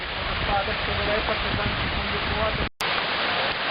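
Shypit waterfall in winter, a steady close hiss of rushing water filling the whole stretch, briefly cut off by a short dropout near the end before resuming.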